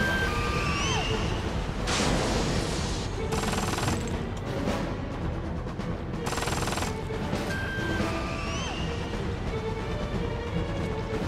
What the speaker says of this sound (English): Oh, it's like a gun?